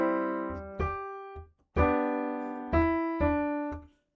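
Right-hand melody played on a keyboard in three-note harmony, a string of sustained chords struck one after another, each ringing and fading before the next, with a stretchy sustained tone and no talking.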